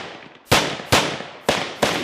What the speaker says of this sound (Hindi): एक आगे फायर करते हुए बढ़ता है तो दूसरा उसे कवर फायर देता है